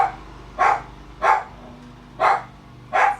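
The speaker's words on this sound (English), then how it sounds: "Fucking stupid doggy barks at fucking everything." A dog barks four times at a steady, evenly spaced rhythm, each bark loud and fairly close over a low background hum from a workshop.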